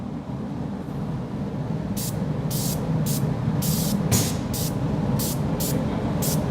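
Undercoating sprayed from a spray gun nozzle in a string of short, sharp hissing bursts, fairly close, over a constant low rumbling background.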